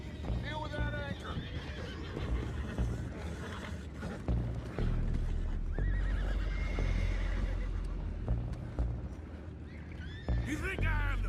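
Horses neighing and whinnying in Red Dead Redemption 2, several loud close calls with hoof clip-clops under a rumbling game soundscape, while characters talk over it.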